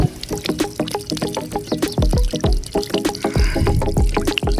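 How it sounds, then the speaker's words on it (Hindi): Water gushes straight out of the ground in a steady, close pour with splashing and trickling, loud and continuous and heard alone, with no talking. "ये सीधा जमीन से आ रहा पानी।"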